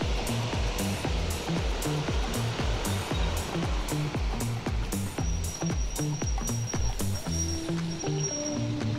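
High water rushing steadily in a broad, continuous roar with a rhythmic churning pulse, close and loud throughout, with no voices.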